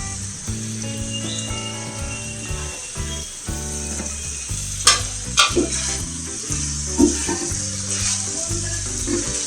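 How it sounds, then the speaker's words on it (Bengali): Shrimp are stirred into cooked water lily stems in a pan, sizzling steadily up close while a spatula scrapes and clinks against the pan several times; a faint background hum runs under the frying. "তার মধ্যে আমি এবার মিশিয়ে দেবো চিংড়ি মাছ"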